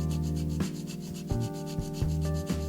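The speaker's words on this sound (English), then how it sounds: "I have to sand down the inner fender a bit so the wheels can clear the fender" Sandpaper rubs in short back-and-forth strokes against the plastic inner fender of a scale model car body, a close, quiet rasping that repeats roughly every half second.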